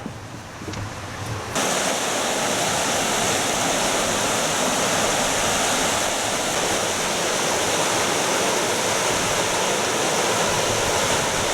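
The River Rother flowing beneath a bridge in Rother Valley Country Park, a loud, steady rush of water with wind buffeting the microphone, continuous and unbroken throughout with no voices.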